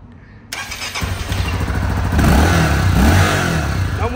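A Honda Tornado XR 300L motorcycle with its air filter removed cranks and fires up, then settles into a loud, steady, close idle with a rough, throaty clatter.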